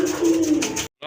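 Sky-blue domestic pigeons coo once up close, a short throaty warble that breaks off abruptly before a brief resumption.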